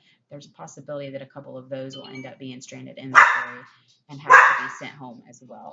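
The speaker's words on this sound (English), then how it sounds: "sorry about the dogs barking" Dogs bark twice in loud bursts behind someone talking about stranded inventory in an Amazon FBA shipment haul, the second outburst longer and busier than the first.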